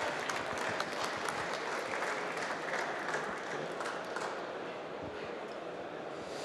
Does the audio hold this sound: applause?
yes